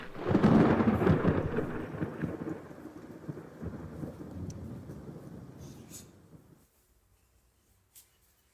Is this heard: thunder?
yes